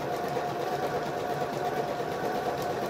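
Steady, continuous whir of a home sewing machine stitching a quilted table topper, running evenly and fairly close throughout with no pauses.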